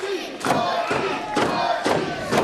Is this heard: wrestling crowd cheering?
yes